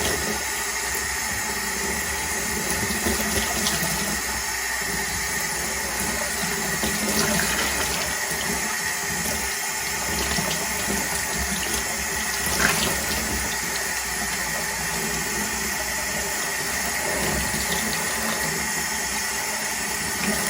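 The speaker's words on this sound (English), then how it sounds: "I clean it under tap water." Tap water runs steadily and continuously, with a constant splashing rush and faint shifts as canister filter sponges are rinsed under the stream.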